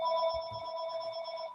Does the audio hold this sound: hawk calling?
no